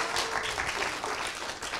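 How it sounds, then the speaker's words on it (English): Audience applause after a presentation, a steady dense patter of clapping filling the whole stretch without a break, fairly loud and close. "Give her a round of applause."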